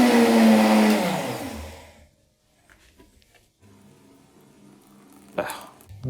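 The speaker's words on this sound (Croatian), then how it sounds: "Sad ćemo to sve skupa samljeti u našem jakom blenderu." A powerful blender roars as it purees caramelized zucchini, loud and close for about two seconds before winding down, followed by quiet kitchen clatter and a sharp knock near the end.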